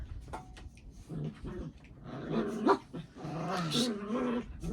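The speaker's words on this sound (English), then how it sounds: "There's like 4 different doggy situations going on." Several dogs growl, whimper and yip at close range in an indoor setting, with overlapping snarls and higher yelps that grow louder toward the end.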